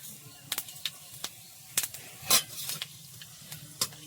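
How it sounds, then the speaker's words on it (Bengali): Panch phoron spices crackle in hot oil with a string of sharp, separate pops and spits over a faint hiss, close and fairly quiet. "ফোড়নে দেবো পাঁচফোড়ন"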